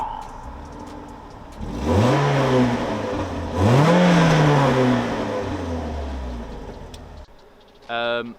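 A naturally aspirated Renault Clio RS 200 Mk3 Cup engine revs up twice in strong rising sweeps, droning steadily between pulls, then drops away before a brief higher whine near the end.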